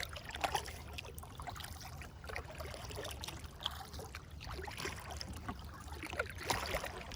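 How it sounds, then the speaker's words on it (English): Kayak paddling across a lake at Chenango Valley State Park, with soft rhythmic water swishes and trickles from the paddle strokes, fairly close and steady, with no talking. "we are kayaking the lake"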